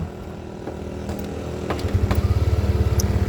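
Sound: Yamaha Aerox scooter engine running

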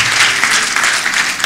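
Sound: congregation applauding

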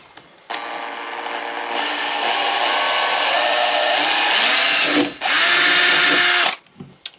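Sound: drilling into the motorhome body with a drill

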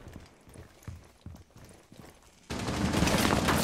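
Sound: gunfire in the video game Rainbow Six Siege

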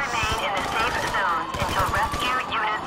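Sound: gunfire from a video game, Grand Theft Auto

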